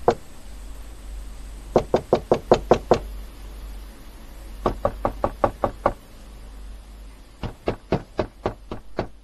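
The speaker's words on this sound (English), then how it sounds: "the knocking never stopped, slow, deliberate, like something testing their resolve" Slow, deliberate knocking on a door, in three separate bursts of about six evenly spaced raps each, with pauses between them over a low steady hum. The knocks are clear and fairly close.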